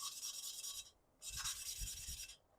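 Valve being lapped against a cylinder head, grinding compound worn down: two faint, smooth rubbing strokes, each about a second long with a short pause between, heard alone up close.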